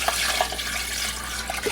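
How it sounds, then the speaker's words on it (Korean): Water poured into a pot of Korean beef bone broth, a loud, close, gushing splash that runs steadily for under two seconds. "1차로 끓인 물을 좀 따라내고 다시 여기 물을 가득 부어서"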